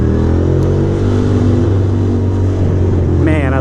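A motorcycle engine runs loud and close with a steady low rumble throughout, rising in pitch near the end as if revving.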